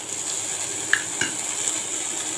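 Ginger, garlic and chili paste sizzle steadily in a frying pan, a soft continuous hiss broken by a couple of light utensil clinks against the pan.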